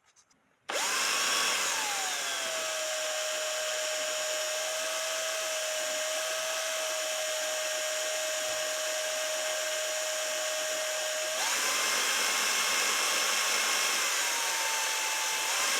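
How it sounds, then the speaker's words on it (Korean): Small electric screwdriver fitted with sandpaper, grinding a tiny carburetor part from a used fan heater: a steady high motor whine that starts abruptly, holds at one pitch for about ten seconds, then rises slightly and continues, close and alone. "이 끝부분이 마모되지 않도록 초집중을 해서 지금 갈고 있습니다"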